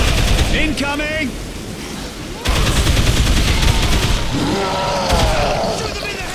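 Dense bursts of automatic gunfire and explosive blasts from the zombie game Dead Island Riptide, loud and continuous, with shouting voices over the shooting.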